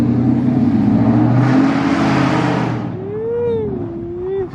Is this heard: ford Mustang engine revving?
yes